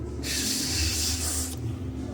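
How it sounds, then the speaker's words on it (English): A steady hiss of aerosol spray paint running continuously for over a second, close and loud, then cutting off abruptly. "I can spray this all pretty quickly."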